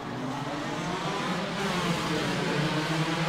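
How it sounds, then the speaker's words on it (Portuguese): Touring race cars idling and revving on the starting grid before a heat of the Gaúcho and Brazilian Touring championship opener, a steady, dense engine drone that holds at a constant level throughout. "O ronco dos motores aumenta."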